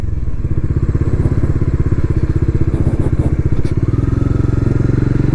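A 2024 Bajaj Dominar 400 motorcycle engine while riding, a loud, close, steady thudding exhaust pulse with rapid even firing beats that rise slightly in pitch as the bike pulls.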